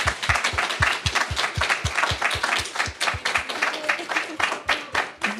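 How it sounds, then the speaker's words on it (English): Audience applause following a research presentation at an interdisciplinary humanities event, a dense burst of many hands clapping that holds steady and loud for several seconds without speech on top. "I would like a huge round of applause."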